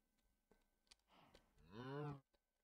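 Cows mooing in the Minecraft video game, a few short low lows followed by a loud, drawn-out harmonic moo rising and then cutting off, heard close with no talk.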